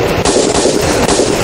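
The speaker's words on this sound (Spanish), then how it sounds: "Esos son disparos." Rapid gunshots fire outside in a loud, close burst of sharp cracks lasting the whole moment, with no speech over them.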